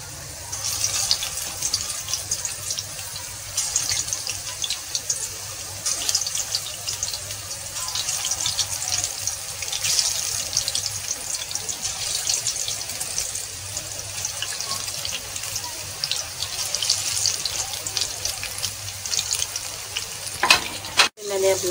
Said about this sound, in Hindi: इसमें ऑयल डाल के हम फ्राई करेंगे